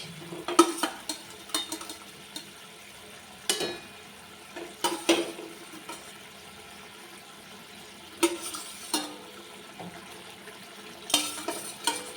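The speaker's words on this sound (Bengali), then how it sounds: "ঝোলটা ফুটে উঠেছে এইবারে দিয়ে দেবো মাছ" Pieces of rupchanda fish go into a boiling kalia curry gravy in a pan, with soft bubbling and sizzling broken by several sharp clatters and splashes as they are added and stirred.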